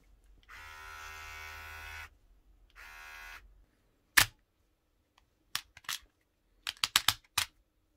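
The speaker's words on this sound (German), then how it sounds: "Hab endlich mal einen gescheiten Rasierer gefunden." Remington ProPower HC7170 hair clipper running in two short buzzing bursts, followed by a series of sharp clicks and handling knocks, with no talk.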